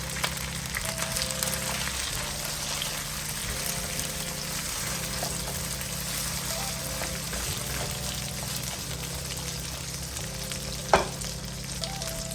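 Three medium tomatoes, cut into pieces, fry in a pan with a continuous close sizzle and bubbling, with periodic low stirring scrapes and one sharp clink near the end.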